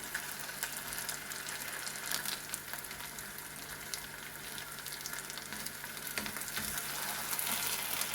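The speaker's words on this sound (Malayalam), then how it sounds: "ഇല വെച്ച് മീൻ വെച്ച് കഴിഞ്ഞാൽ ലോ ടു മീഡിയം ഫ്ലെയിമിലിട്ട് ഫ്രൈ ചെയ്യാവുള്ളൂ." Pearl spot fish frying in hot oil on a leaf over low to medium flame, a steady close crackling sizzle with bright bubbling that builds slightly toward the end, no talk.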